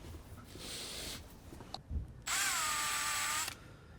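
A power drill chamfers a hole in metal during a turbo install on a GMC Sierra, with a short burst, a brief clunk, then a sustained high whining run of just over a second before stopping.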